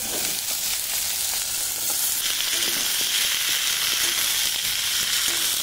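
Dried red chillies and five-spice tempering sizzle in hot oil for a potato curry, a loud, steady close hiss holding throughout with faint crackles and occasional stirring clicks.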